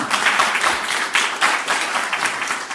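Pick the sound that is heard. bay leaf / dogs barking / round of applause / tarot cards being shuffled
round of applause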